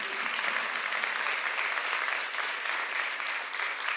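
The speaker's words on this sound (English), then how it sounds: "Please give a round of applause." An audience claps steadily for musicians at a State of the Schools address, a dense even wash of applause from a large crowd with no break.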